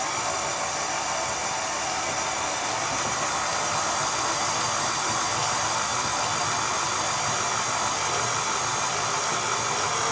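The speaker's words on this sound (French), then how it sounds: "Vous allez laisser le robot travailler pendant 2-3 minutes afin d'avoir une pâte bien homogène" A food processor mixes gingerbread dough, a loud steady motor whir running without pause for several seconds, no talking.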